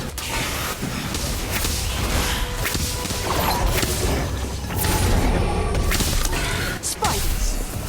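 Confringo spell effect in the Harry Potter Magic Awakened video game during a final boss fight: dense, continuous whooshing and crashing magic effects with whip-like cracks and thuds, loud and busy throughout.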